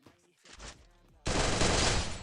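Gunfire in the shooting game Free Fire: after a few scattered shots, a loud, dense burst of rapid automatic fire takes over and carries on steadily to the end.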